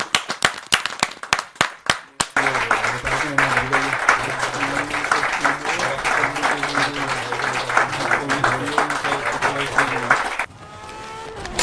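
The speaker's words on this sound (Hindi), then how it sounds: "तो इसी श्रृंखला में इनके लिए फिर से एक बार जोरदार तालियां हो जाएं।" Loud audience applause at a stage comedy show: a few sharp separate claps first, then a dense, sustained burst of clapping from the crowd with voices mixed underneath, ending in a sudden cut.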